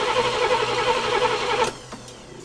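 A 1978 Oldsmobile Toronado XS barn find, left sitting for decades, cranks with a steady mid-pitched churn that cuts off abruptly, followed by a brief quieter tail.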